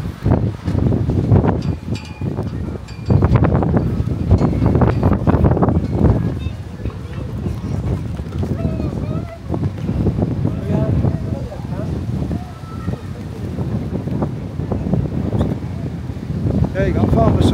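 Strong gusty wind buffets the microphone on a hot, breezy day in Benidorm, Spain, roaring loud and near throughout while a person talks underneath.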